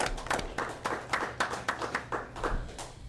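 Audience at a commission meeting applauding, a small group clapping in a steady, moderately paced rhythm, fairly close and continuous for a few seconds.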